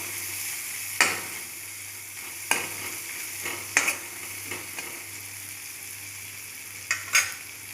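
Ingredients frying in oil in a pan for a fish-head dish, a soft steady sizzle close by, punctuated by several sharp bursts of stirring and scraping at irregular intervals.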